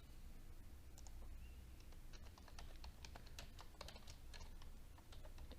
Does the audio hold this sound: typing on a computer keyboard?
yes